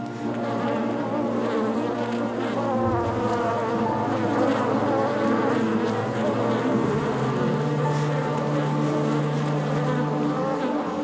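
Bees swarm and buzz steadily around beekeeping hives kept by locals along a park fence in Gorongosa, Mozambique, a dense, continuous drone that fills the whole stretch with no voices.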